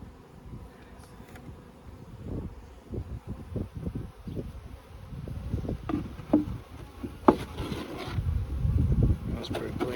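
Honey bees hum around an open nuc hive during a brood box addition, a steady buzzing swarm close by with louder passes near the microphone, mixed with handling noise and low rustling.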